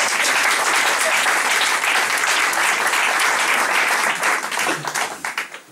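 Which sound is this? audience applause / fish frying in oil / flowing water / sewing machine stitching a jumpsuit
audience applause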